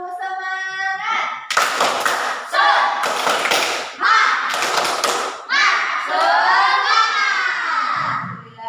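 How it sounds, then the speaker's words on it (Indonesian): Schoolchildren in an Indonesian classroom perform the tepuk semangat rhythmic clapping chant: a teacher's voice calls, then loud, close bursts of group claps alternate in a steady pattern with the children's chanted voices. "Tepuk semangat."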